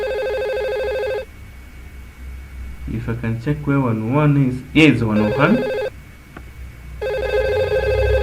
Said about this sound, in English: you can see it's ringing out and you can hear the sound